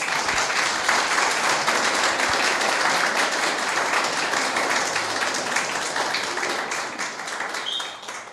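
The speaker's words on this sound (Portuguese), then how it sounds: "Nossos aplausos ao Senhor." An audience at a seminar applauds steadily, with dense continuous clapping of a crowd that holds for several seconds before fading slightly at the end.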